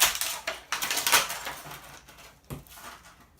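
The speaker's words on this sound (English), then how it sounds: "Pop him out of the plastic." Crinkly plastic packaging crackles and snaps as a Star Wars Black Series TIE Fighter pilot figure is popped free, a close, busy run of rustles and sharp clicks with a brief pause.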